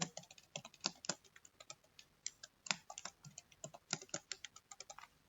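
Fingers typing a password on a computer keyboard while setting up an F5 BIG-IP admin login, a close series of irregular clicky keystrokes with brief pauses, no talk.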